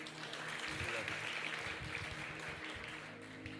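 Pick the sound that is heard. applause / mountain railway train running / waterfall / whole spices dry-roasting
applause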